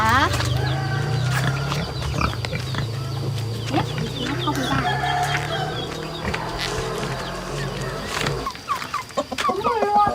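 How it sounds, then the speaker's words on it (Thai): Fighting cocks and hens cluck and call in a rural village chicken coop in Thailand, a steady layer of fowl sounds with other background noise throughout. "ก็จะเป็นไก่ชนกับแม่ไก่นะคะ"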